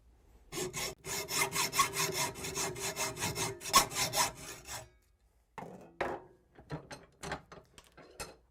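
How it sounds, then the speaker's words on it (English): Hacksaw blade cutting through a metal motorcycle kickstand, a steady run of quick back-and-forth rasping strokes for several seconds, then a few separate, more spaced scrapes after a short pause. "when you cut that with the hacksaw, these lines are on an angle"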